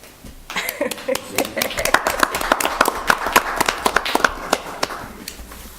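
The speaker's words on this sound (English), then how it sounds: "enough with the applause" Meeting audience applauding in a modest room, a sparse group whose individual claps stand out as sharp, uneven bursts that build after a brief start and hold steady, with voices underneath.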